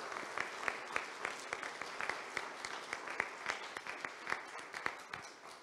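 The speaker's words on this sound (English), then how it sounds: "Can we give him a round of applause, please" An audience in a church hall applauding during a U.S. Air Force band concert, crisp individual claps in a quick, fairly regular pattern, faint and somewhat distant, with no talking over it.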